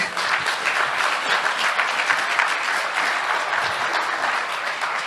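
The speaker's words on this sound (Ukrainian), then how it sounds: "давайте ми всі один одному подякуємо оплесками" An audience at a mental health forum applauds, a dense, even wash of many hands clapping that holds steady and fairly loud throughout with no voices over it.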